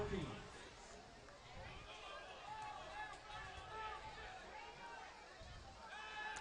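Football crowd at an Elgin vs Anadarko high school game, a steady hubbub of voices and scattered shouts from unhappy Anadarko fans in the stands, distant and continuous with no single clear voice.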